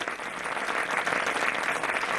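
Applause from participants in a practical workshop, a steady patter of many hands clapping at moderate, somewhat distant level, continuing evenly without speech.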